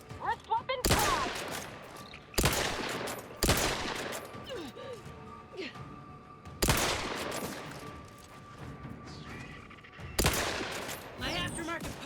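Wrist-mounted weapon fires in The Outer Worlds 2, five loud, sharp blasts at irregular intervals, each with a ringing tail over a busy background of game ambience and clatter.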